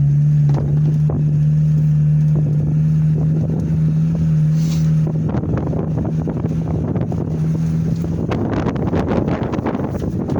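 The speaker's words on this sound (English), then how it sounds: "It's windy" Wind on a mountain ridge line buffets the microphone in rough, gusty rumbles, strengthening and turning more turbulent toward the end.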